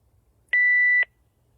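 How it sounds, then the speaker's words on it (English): A single clean electronic beep sounds alone for about half a second, a steady pure tone that cuts in and stops sharply against near silence. "Something just beeped at me."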